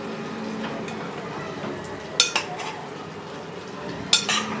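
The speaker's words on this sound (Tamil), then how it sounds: "ஒரு பெரட்டு பெரட்டி விட்டுக்கலாம்" Soft bubbling simmer in a pan with two sharp metallic clinks of a utensil against the pot, close by, amid low background murmur.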